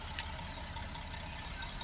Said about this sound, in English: because the engine's running